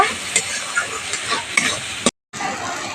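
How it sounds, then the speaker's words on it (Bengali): Crab roe frying and being stirred into a spice paste in a pan, with a steady close sizzle and repeated scraping spoon strokes, broken briefly by a short silent gap. "এবার এই কাঁকড়ার ঘিউটা দিয়ে দেব। দিয়ে মশলার সঙ্গে একটু কষিয়ে নেব।"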